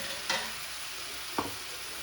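Deer meat burgers frying in a pan with a steady bright sizzle and two brief scrape-like stirs, close and even, no talk.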